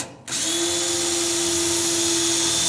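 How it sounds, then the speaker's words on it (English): A power drill whines at a steady high pitch right up close, drilling holes in the sheet-metal firewall of a Pontiac GTO, starting abruptly after a quiet moment and running continuously without pause. "we'll go ahead and drill some holes"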